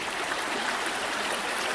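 A Carpathian river flows right beside a riverside campsite kitchen, making a steady, full rushing wash that continues evenly throughout with no voices.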